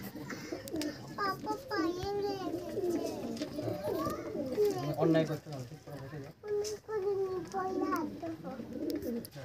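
Pigeons in a loft coo steadily and repeatedly, close and fairly clear, with a person talking at times over the birds.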